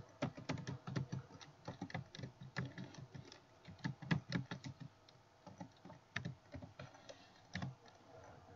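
Rapid, irregular keystrokes on a computer keyboard as an open house time is typed into a real estate listing flyer, close and fairly quiet, with clustered clicks and brief pauses and no talking.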